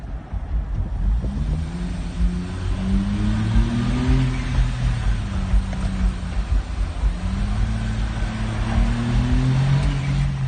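Car engine revving hard after a downshift inside a tunnel, a loud rising and falling drone with strong echo and rumbling road noise throughout, no talking.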